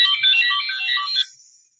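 A mobile phone ringtone chimes loudly and close in a bright melodic burst, cutting off after about a second and trailing away.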